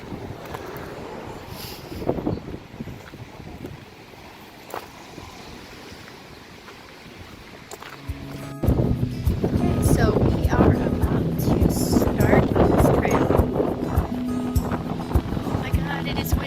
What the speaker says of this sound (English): Oh my God, it is windy, guys,